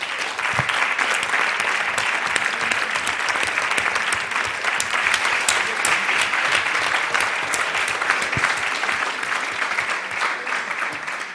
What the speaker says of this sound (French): je vous demande d'applaudir chaleureusement Alain Ferrand.